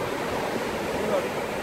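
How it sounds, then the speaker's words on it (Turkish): Steady rushing wash of sea waves breaking on a rough, choppy shore at a surf-casting fishing spot, continuous and fairly loud throughout with no distinct pauses. "Deniz çok güzel yani. Dalgalı ama eğlenceli."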